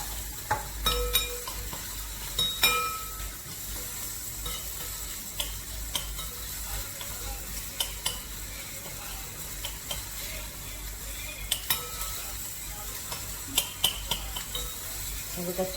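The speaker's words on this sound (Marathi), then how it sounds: "कांदा टोमॅटो वगैरे सर्व छान परतून झालेलं आहे." Onion and tomato masala sizzling softly in a pan for dal tadka while being stirred, with scattered clinks and taps of a spoon against the pan over a low, steady frying hiss.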